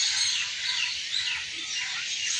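Birds chirp outdoors in a dense, continuous high chorus of overlapping tweets and trills, moderately loud and steady, with no talking.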